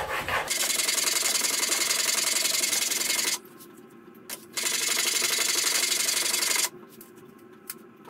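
A plane blade is rubbed back and forth on a sharpening stone, making two long, steady, gritty scraping strokes up close, with a short pause and a light tap between them.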